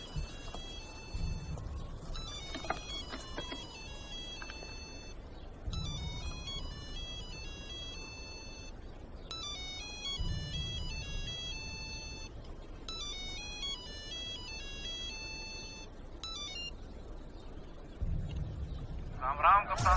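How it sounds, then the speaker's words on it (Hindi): A mobile phone ringtone rings over and over at a steady, medium volume, its bright electronic melody repeating in bursts with short gaps, among several phones lying beside a roadside spot, with a low thumping underneath. "इसमें से एक बार बार बज रहा है।"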